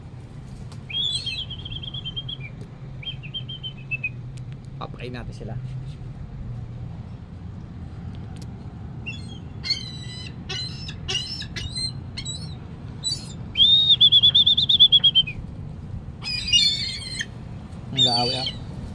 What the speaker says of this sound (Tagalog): Ito yung mga ibon.